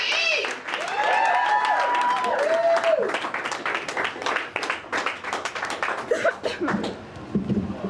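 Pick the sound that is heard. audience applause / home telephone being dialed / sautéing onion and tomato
audience applause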